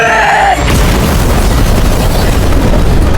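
A loud, sustained explosive roar of a car blowing up bursts in after a brief tone, then rumbles on densely without letting up.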